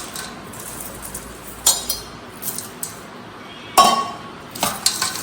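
A spoon stirs fried bitter gourd into a pickle mixture, making sparse, sharp clinks and scrapes against the vessel, spaced irregularly over a quiet background.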